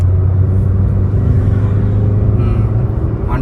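Maruti Suzuki Fronx engine pulling on partial throttle, a loud continuous low rumble and whir heard from inside the car, steady throughout with no talk over it.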